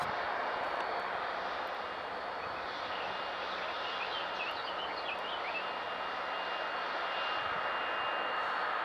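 EasyJet jet airliner engines at Manchester Airport, a steady broadband roar that holds at the same level throughout, heard from a distance outdoors, with faint bird chirps above it.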